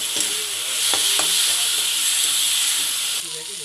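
Fried onions keep sizzling in a pan as turmeric, cumin, coriander and dried chilli paste are added, a steady loud hiss with a few sharp stirring clinks and a voice speaking over it.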